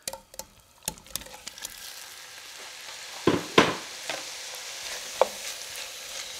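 Pork sizzles in melted butter in a pan, a steady low frying hiss under scattered clacks of stirring and utensil taps, with a couple of louder scrapes midway.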